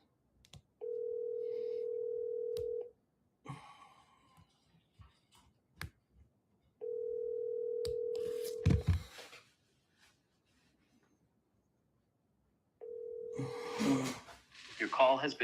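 A telephone call ringing out, three long steady ring tones separated by gaps with scattered clicks, and a voice starting over the last ring near the end.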